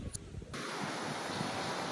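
Rough surf and gusty wind at a beach car campsite in Bicol, a steady loud broadband roar that swells in after a brief quieter moment, with wind buffeting the microphone.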